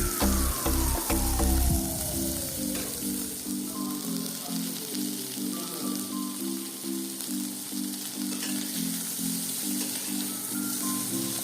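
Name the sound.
vegetables frying in a pan for chicken stew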